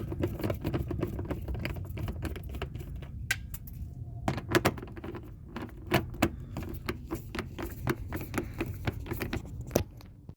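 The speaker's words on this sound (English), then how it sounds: "here I'm using a 7mm socket to drive these screws out" A 7mm socket backing screws out of a 2007-2014 Dodge Avenger during a battery change, heard as a rapid patter of small ratcheting clicks and taps that runs steadily throughout and sits close and fairly loud.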